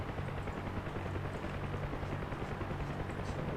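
UH-1 Huey helicopter engine and rotor in a DCS flight simulation, a steady loud droning whine with rhythmic rotor chop, holding evenly as the throttle opens.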